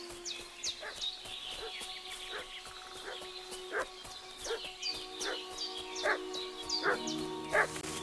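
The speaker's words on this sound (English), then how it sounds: "What's that dog making such a fuss about?" Dog barking in the medieval open-world video game Kingdom Come: Deliverance II, a series of sharp barks repeating at irregular intervals over steady outdoor ambience with birdsong, moderately close and growing more insistent toward the end.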